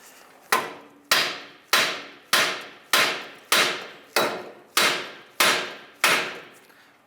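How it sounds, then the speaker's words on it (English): A small to medium hammer strikes the steering knuckle of a 2007-2015 Mazda CX-9 to separate the tie rod end ball joint. Ten sharp metallic blows come in an even rhythm, loud and close, each ringing briefly with no talk. "take a small to medium hammer and we're going to hit our knuckle right here to try and separate the ball joint"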